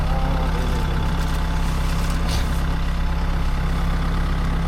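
A new Develon DX65MT-7 excavator's diesel engine idles close by with a steady, loud, low rumble and no pauses.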